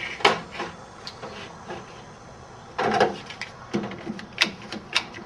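Small clamps are set down and tightened onto a motherboard on a workbench, giving a handful of sharp clicks and clacks with quieter handling noise between them and no talking.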